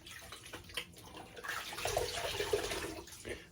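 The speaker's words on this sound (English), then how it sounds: "And then rinse." Tap water runs and splashes while a Mühle R41 razor is rinsed during a shave, a steady wash of water rising in the middle and then easing off, close by with no talking.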